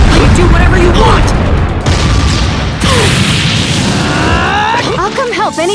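In a Naruto Ultimate Ninja Storm Revolution match, a super mini tailed beast bomb detonates with loud, sustained booming blasts and crashing bursts that fill the whole stretch, overlaid with whooshing effects.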